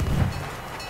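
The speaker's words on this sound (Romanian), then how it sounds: "Ce explozie aici." An explosion in the video game Battlefield 1, a short, loud, low boom that rumbles and fades over about a second, heard alone with no voices over it.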